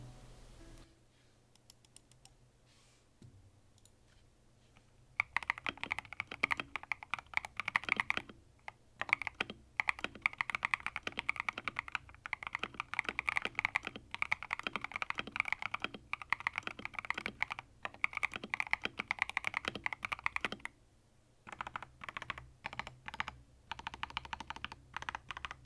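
Fast, steady typing on a modded Epomaker EP75 mechanical keyboard with lubed stabilizers, tape and PE foam: dense clacky keystrokes close up after a quiet start, with a brief pause near the end before the clacking resumes.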